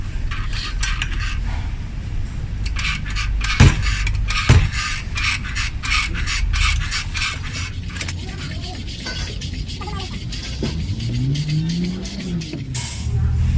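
A car is raised on a jack set under the suspension near one wheel, giving a run of rhythmic metallic clicks and scrapes, a couple of sharp knocks, and a rising creak toward the end.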